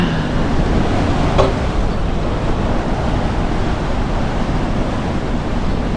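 Steady, loud wind gusting near 40 knots through a channel under a bridge while sailing off Japan, with a constant rush of surf and buffeting on the microphone.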